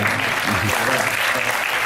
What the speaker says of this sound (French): Vous avez le droit de l'applaudir si vous voulez.